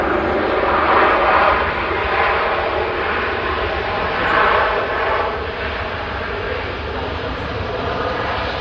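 A Ryanair airliner arriving at Manchester Airport roars with a loud, sustained jet rumble that swells and fades slightly over several seconds, heard alone without talk.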